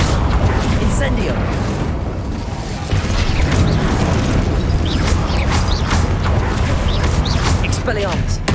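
Incendio fire spell cast during combat in Hogwarts Legacy, a dense, continuous roar of booming magical bursts and clattering game effects with a voice talking over it throughout.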